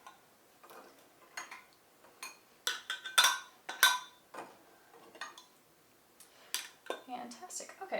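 Metal canning lids clinking and clattering as they are handled while canning diced tomatoes, scattered sharp metallic taps and jingles, close and fairly quiet, with pauses between clusters.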